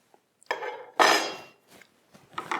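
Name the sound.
removing metal plate from Hottop KN-8828B-2K coffee roaster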